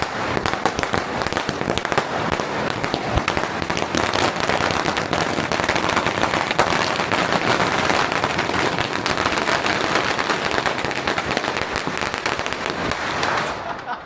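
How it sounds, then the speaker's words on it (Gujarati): Firecrackers burst nonstop through a family welcome celebration, a dense, loud crackling barrage of rapid pops that runs throughout, with people's voices mixed in. "ફટાકડાની ડટીઓ ભાઈ ઉડતી હતી"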